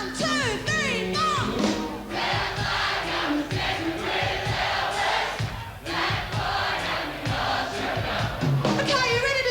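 A crowd at a country music festival in Gympie, Queensland, singing along loudly with the band, a dense sustained wash of many voices over the music throughout.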